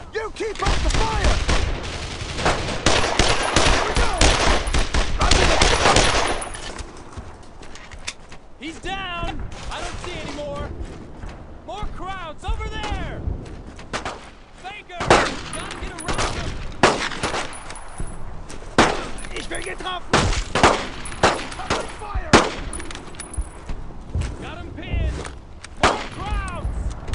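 Heavy World War II–era gunfire in Brothers in Arms Road to Hill 30: bursts of rifle and machine-gun shots, some loud and close, others scattered, with shouted voices between the volleys.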